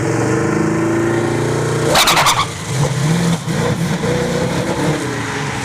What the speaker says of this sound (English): Spun the tires there, and now he's limping.